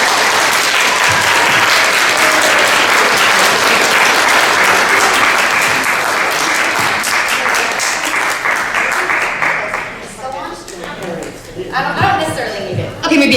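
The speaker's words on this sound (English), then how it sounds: "let's give them another round of applause" An audience at an artists' panel at the Monmouth Museum breaks into sustained, dense applause that fills most of the clip, thinning out near the end as chatter and scattered claps take over.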